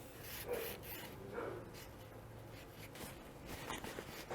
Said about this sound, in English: we're going to wipe things down with a dry paper towel as we go